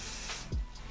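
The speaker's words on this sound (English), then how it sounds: "I usually use Sebastian hairspray, spray my hands and just smooth it over" Sebastian hairspray is sprayed onto hands in a short close hiss lasting about half a second, followed by a faint low thump.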